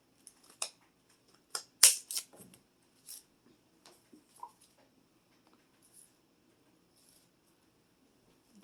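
Scissors snipping artificial berry stems for a Dollar Tree festive wreath; a few sharp, close clicks and crunches clustered early, then sparser faint snips separated by quiet.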